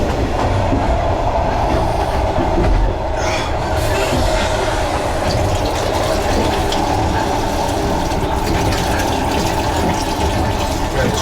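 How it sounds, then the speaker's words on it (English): Train cars rolling along rails in Vietnam, a loud continuous rumble with rattling and clatter throughout, steady and close, with no clear talk over it. "Man, this train is so rocky."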